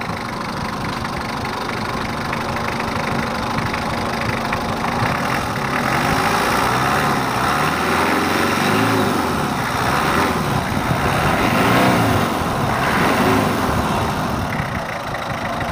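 A repaired engine, due for pump and nozzle adjustment, runs continuously at a steady idle, a close, even mechanical hum with a faint knocking texture throughout and no talk.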